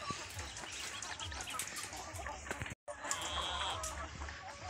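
Chickens clucking and crowing at a poultry farm on a mountainside, steady close clucks from a flock with occasional wing flaps, no one speaking.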